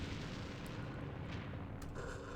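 Mortar fire pounds away in the wargame Campaign Series Vietnam during a Dien Bien Phu battle: a heavy, continuous rumble of muffled explosions with a few sharper bursts near the end, and no speech.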